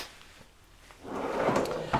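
A drawer slides open in a DRV Mobile Suites 40 KSSB4 luxury fifth wheel RV, a quiet lull followed by a close rolling rumble and a short knock as it stops.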